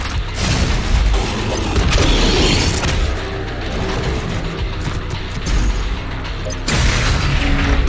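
Ballista shots from the game Doom Eternal boom amid dense, loud combat noise, with heavy blasts, mechanical clanks and crashes layered continuously throughout.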